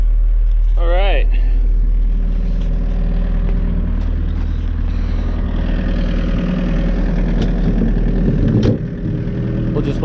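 An engine warms up at idle with a steady, close low rumble and hum that holds evenly throughout, with a few faint knocks and clatters over it.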